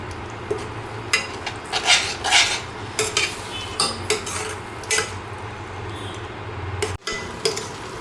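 Paneer bhurji masala frying in oil in a pan, with steady background frying noise broken by repeated metal clinks and scrapes of a spoon stirring against the pan, close and fairly loud, with no talking.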